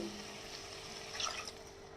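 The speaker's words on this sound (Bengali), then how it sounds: "মাছের ঝোলের জন্য যে গরম জল করে রেখেছিলাম সেই গরম জলটা দিয়ে দিলাম" Hot water poured into a pan of fish curry with eggplant, a steady soft liquid pour with a slight splash partway through, faint and close, with no talk.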